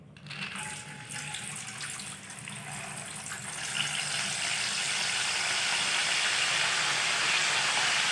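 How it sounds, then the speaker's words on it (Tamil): Soaked pulses are fried in hot oil for a Karthigai pori recipe, a steady broadband sizzle that swells and grows louder after a few seconds and then holds, with no one speaking. "இப்போ இந்த ஊற வச்சுருக்க பயிரையும் போட்டு எடுத்து பொரிச்சு எடுத்துக்கலாம்."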